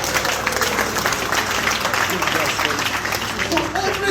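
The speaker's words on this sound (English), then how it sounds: "Clap, I won't charge you." An audience at a forex trading session in Lagos claps in a steady burst of applause, with a voice speaking over the clapping.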